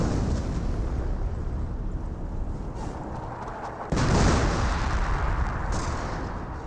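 An artillery barrage in the World War II strategy game Company of Heroes, heard as continuous heavy rumbling, booming explosions. A louder blast hits partway through and the roar stays dense to the end.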